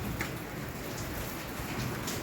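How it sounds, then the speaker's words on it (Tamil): Steady hiss of summer rain falling on a rooftop garden, a dense continuous patter with no voices, heard alone at moderate level. "மழை வர்றது நல்லா இடி சவுண்டு பாருங்கள்"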